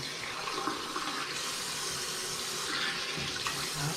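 Water runs steadily from a bathroom sink faucet through a faucet-mounted filter, a constant close rush and splash with slight swells, no talking over it.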